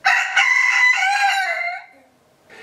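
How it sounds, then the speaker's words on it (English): A pet rooster, one that wears a diaper, lets out a single loud cock-a-doodle-doo lasting nearly two seconds, close by and alone, with the call trailing off into quiet. "He's excellent at saying cock-a-doodle-doo, but he does it more so in the morning."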